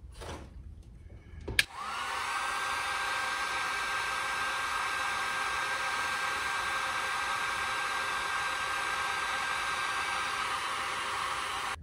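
A hot air blower starts with a click and then runs as a steady, loud broadband whoosh with a faint whine, held constant for about ten seconds while heating a part for a garment-making project.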